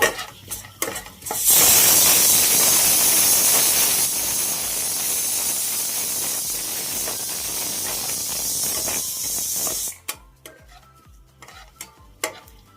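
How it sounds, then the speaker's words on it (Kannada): Spices for a mutton curry hit a hot pan with a sudden loud, hissing sizzle that stays strong for several seconds, then cuts off abruptly, leaving quieter clinks and stirring, no voices. "ಸ್ಪೈಸಸ್ ಚೆನ್ನಾಗಿ ಫ್ರೈ ಮಾಡ್ಕೋಬೇಕು"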